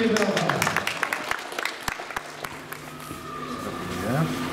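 Crowd applauds third-place boys at an under-12 county youth football final award ceremony, scattered sharp claps in a modest burst that thins out, with voices mixed in and a bright tonal sound near the end.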